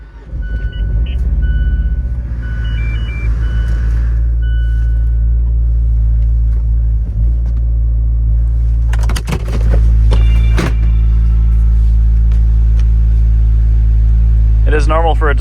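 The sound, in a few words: Fiat 124 Lusso car engine running, driving out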